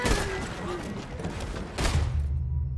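Gunfire rings out in the Red Dead Redemption 2 video game, a few loud shots and thumping bursts over game sound, with excited talk and shouting layered on top.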